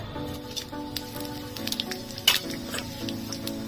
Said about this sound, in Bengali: ফোড়নে দিয়ে দেবো গোটা জিরে, দালচিনি, এলাচ, লবঙ্গ, দুটো শুকনো লঙ্কা, তেজপাতা।